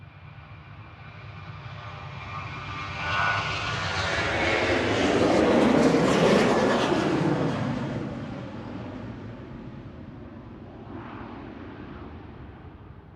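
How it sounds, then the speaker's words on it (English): A Ryanair Boeing 737-800 taking off from Manchester Airport builds from a distant rumble into a loud jet roar that peaks and then fades as it climbs away, with no talk over it. "Departing is Ryanair to Dublin, EIEFJ, 737-800 with flight 559."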